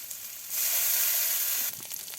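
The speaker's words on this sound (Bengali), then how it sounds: "আর একটু তেল দিয়ে দিল পেঁয়াজ কুচি কাঁচামরিচ কুচি সব রকমের টাটকা মশলা বাটা" Onion, green chili and fresh ground spice paste hit hot oil in a village kitchen, setting off a loud, steady sizzle that swells for about a second before easing back to a softer crackle.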